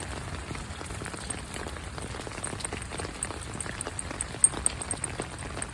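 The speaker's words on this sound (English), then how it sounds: "It's supposed to get really heavy rain tonight, so we're going to go walk while it's just a light rain." Light rain falls steadily across a residential neighborhood, a soft, even patter with scattered faint drips and no voices.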